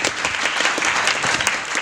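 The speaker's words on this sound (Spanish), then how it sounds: "¿Pueden darle un fuerte aplauso, por favor, primero?" Audience applause fills a room at a talk or lecture event, a steady dense wash of many hands clapping throughout, loud and close with no speech over it.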